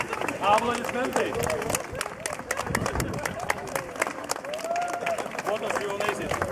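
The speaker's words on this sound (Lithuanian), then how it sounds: "aplodismentai." Wedding guests clap and applaud steadily through a lively reception hall, the scattered hand claps mixing with crowd chatter and background music.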